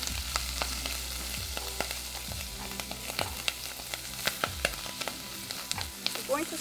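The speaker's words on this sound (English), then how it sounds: "We're going to stir fry it for about 2 minutes, 1 to 2 minutes." Seaweed stir-frying in a pot over low heat, a soft continuous sizzle broken by repeated scraping and clinking of a utensil against the pot as it is stirred, with no talking.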